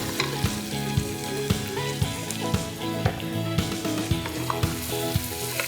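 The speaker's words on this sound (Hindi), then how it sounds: "इसमें हम डालेंगे अदरक लहसुन।" Ginger and garlic sizzle in a hot pan, with a steady crackling fry and regular scraping and stirring knocks from a utensil.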